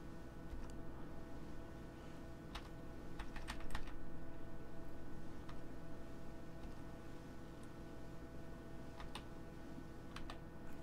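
Arrow keys on a computer keyboard clatter in scattered taps and short bursts of clicks, faint against a steady background hiss.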